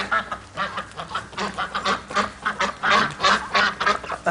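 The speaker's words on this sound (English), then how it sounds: "Ducks." A flock of ducks being herded quacks and honks continuously in quick overlapping calls, loud and close, with no talking.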